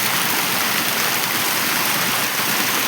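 Heavy rain pours outside, a dense, steady broadband wash of falling water at a constant loud level, with no voices and no pauses.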